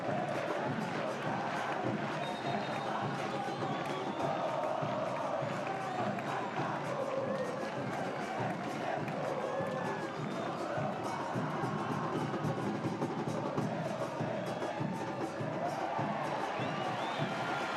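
A packed football stadium crowd behind the goal at a 2023 Concacaf Central American Cup match between Cartaginés and Universitario, cheering and chanting in the final minutes: a dense, continuous roar that holds steady throughout, with faint commentary mixed in.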